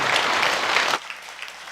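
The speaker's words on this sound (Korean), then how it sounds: "박수 한번 드리겠습니다." A church congregation claps during a Sunday worship service, a dense wash of applause that cuts off abruptly partway through, leaving a few scattered claps over a quiet room.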